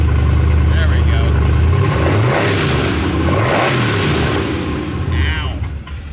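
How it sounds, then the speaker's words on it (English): A supercharged car engine revs hard with its exhaust cutouts open, giving a loud, rising and falling rasp over several pulls. Voices can be heard briefly alongside it. "Oh, that supercharger sounds nasty."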